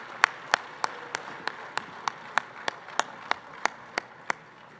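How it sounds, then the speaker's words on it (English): Slow, evenly spaced single handclaps, about fifteen sharp claps in a steady rhythm at a hall of fame banquet dinner, close and distinct rather than a full crowd ovation, with no talking. "please join me in thanking and giving a warm round of applause to the entire Alerus Center staff"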